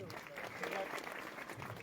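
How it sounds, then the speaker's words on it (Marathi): Crowd applause at a felicitation ceremony honouring a mahant, a steady dense clapping wash that runs the full length with a mix of nearby and distant hands. "जोरदार टाळ्या वाजवायच्या।"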